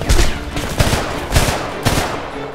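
Gunfire in the shooter game Homefront: four loud, evenly spaced shots or short bursts about half a second apart, close and punchy, with no talking.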